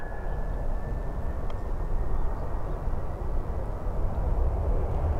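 Propeller aircraft at Christchurch airport, a steady broad engine drone with low rumble holding at a constant level throughout, no talking.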